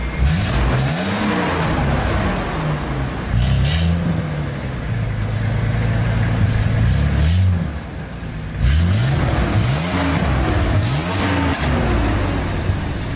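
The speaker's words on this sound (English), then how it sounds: "And hear the exhaust." A hot rod car engine revs loudly and repeatedly, its exhaust rising and falling in several throaty pulls over a steady idle rumble, close up and continuous with no talking.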